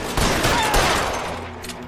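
A short, loud burst of rapid gunfire erupts during a shootout in LA Noire, several overlapping shots crackling close by within about two seconds, with no talk over it.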